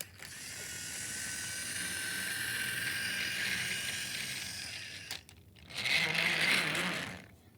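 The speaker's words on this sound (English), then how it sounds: "Now let's hear his motor work and run." A small Mattel toy train's electric motor runs with a steady, close mechanical whir and gear rattle that lasts several seconds, pauses briefly, then surges louder before fading.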